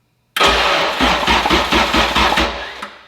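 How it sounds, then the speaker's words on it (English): A Honda K-series engine in a Honda NSX cranks over on the starter for about two seconds, a loud, close rhythmic chugging that ends abruptly without catching. "jump it to our trigger on the starter, and just crank this engine over for 2 seconds"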